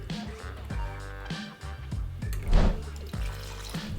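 Yamato whiskey is poured into a mixing glass, giving a gurgling liquid stream with repeated glugs and a brief louder splash near the middle, close and clear.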